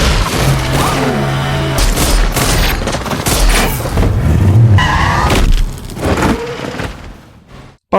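A film car chase with gunfire: engines roar, tires skid, and shots and impacts crash loudly in a dense, chaotic mix that fades out at the end.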